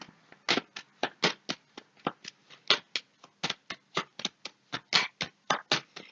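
Playing cards slapped down and shuffled by hand during a tarot-style card reading, a rapid series of sharp, close snaps and flicks in an irregular rhythm with no talk.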